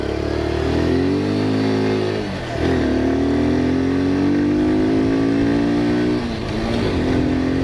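A Kawasaki Z125 motorcycle engine hums while riding, revving up in smooth rising pitch sweeps through gear changes, with brief dips between shifts and steady wind noise underneath.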